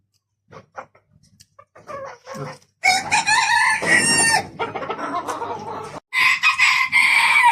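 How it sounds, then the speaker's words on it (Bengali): Fancy-breed chickens cluck and a rooster crows loudly at a poultry farm near Kolkata, with scattered soft clucks at first, then long, strident crows close by. "কত সুন্দর একটা ব্রিডের মুরগি দেখুন"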